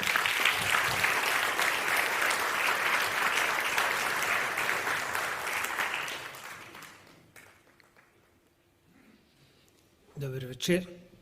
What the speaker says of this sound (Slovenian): Lepo prosim za aplavz.